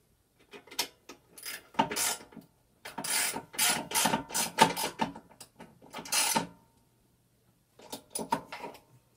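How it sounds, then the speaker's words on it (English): Ratcheting clicks from a bolt being tightened back up on a 10-inch bandsaw under repair, coming in several close bursts with short pauses between them. "Go ahead and tighten that back up."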